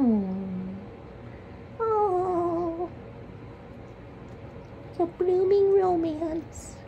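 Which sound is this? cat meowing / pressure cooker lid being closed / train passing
cat meowing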